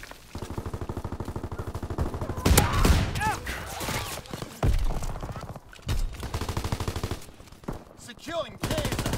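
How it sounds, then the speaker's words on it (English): Gunfire in the World War II shooter game Call of Duty: WWII, with rapid, bursty volleys and automatic fire spread across the clip, punctuated by louder shots and occasional voice callouts underneath. "Keep firing. Enemy guns full speed."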